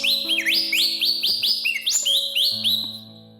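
A traditional handmade toy whistle imitates a bird, giving a loud, rapid series of rising chirping whistles close up, repeated rhythmically over a steady low tone, with no talking.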